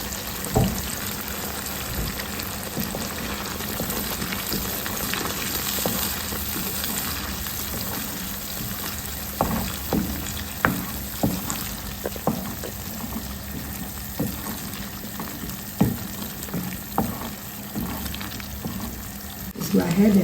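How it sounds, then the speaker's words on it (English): Tomato sauce goes into a duck meat stew in the pot and sizzles steadily for the whole stretch, with scattered scrapes and clinks from stirring, heard close up. "Go ahead and add our tomato sauce."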